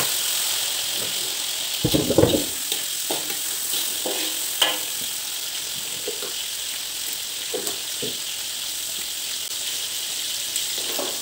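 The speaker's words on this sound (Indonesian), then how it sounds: "Goreng dulu bawang." Onions fry in a pan with a steady sizzle and the occasional scrape and clatter of stirring, close and continuous with no speech.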